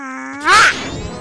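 A horse in the video game Majora's Mask gives one loud, close neigh that starts as a rising whinny and breaks into a harsh, noisy burst before trailing off into quieter game sound.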